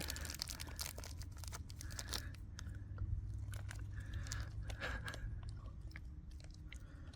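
A pet dog named Sunja chews and crunches a treat, with steady close-up biting and crunching sounds running throughout, plus a few sharper crunches, and no talking.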